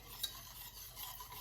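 Sticky char siu sauce is stirred in a pot, a soft, continuous scraping swirl with one brief clink near the start, close up, with no talking.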